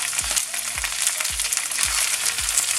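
Okra frying in a hot pan for a Bengali bhaji, hissing steadily while being turned, with a low rhythmic thump roughly every half second from stirring, close and moderately loud.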